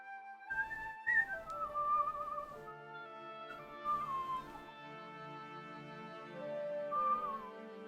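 A person whistling a short, wavering melody indoors, a few clear tonal phrases with pauses between them, close and fairly quiet, with no talking.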